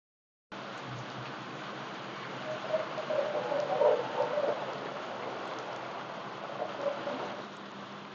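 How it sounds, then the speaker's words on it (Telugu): Heavy rain pours down on a vegetable field during a bitter gourd harvest, a steady, fairly soft hiss that swells slightly midway, with no talking. "ఇక వాన రానే వచ్చింది నేను కాకరకాయలు తెంపడం స్టార్ట్ చేసిన కథం ఇక విపరీతమైన వాన"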